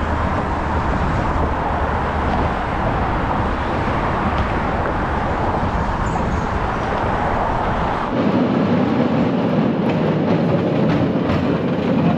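Steady rumbling ride aboard a San Francisco tram heading to Fisherman's Wharf, a continuous broadband roar of rolling wheels and motor that shifts in tone partway through, with no voices.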